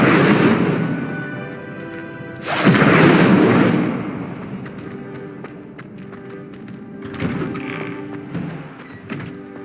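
Incendio fire spell cast in a Harry Potter video game: two loud, broad whooshing bursts of flame, one at the start and a stronger one a few seconds later, trailing off into softer crackling and faint effects.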